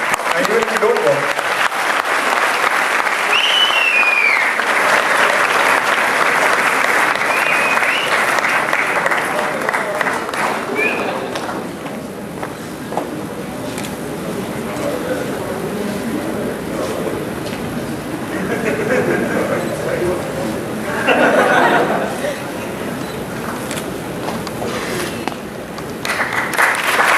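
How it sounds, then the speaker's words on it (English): Audience applause at a TOSS launch event, a broad sustained wash of clapping from a crowd that fills the room, gradually thinning and tapering with scattered claps toward the end, with some voices mixed in. "You can clap if you want to."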